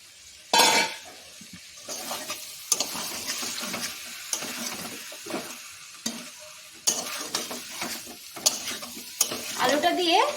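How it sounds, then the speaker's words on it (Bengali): Fried potatoes stirred into a simmering Bengali-style chicken curry in a pan, with repeated scraping and clinking spoon strokes over a soft sizzle, close and fairly quiet, with no voices. "এবার ভেজে রাখা আলুগুলো দিয়ে দিচ্ছি"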